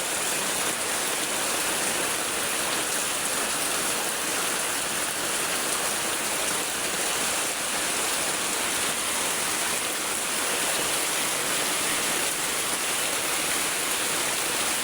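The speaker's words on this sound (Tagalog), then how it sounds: "Ang lakas na po ng baha." Flood water rushing during a typhoon, a constant loud broadband roar like heavy rain or a torrent, steady and unbroken throughout.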